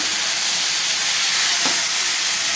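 Vegetables for chowmein frying in a pan, a loud, steady hiss and sizzle throughout with no pauses, close by and without voices.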